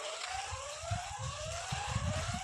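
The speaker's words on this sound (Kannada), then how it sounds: "ಹಾಂ, ಸೈರನ್ ಆಗ್ತಿದೆ ನೋಡಿ." A siren near an areca plantation rises steadily in pitch and sounds somewhat distant and moderately faint. Low rumbling background noise continues beneath it throughout.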